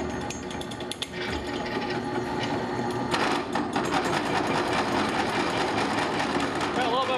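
Drill press boring a 7/8 inch hole through round steel tube for a V8-powered Triumph GT6 pro touring build, a steady loud mechanical whir and grinding throughout, with people talking over it.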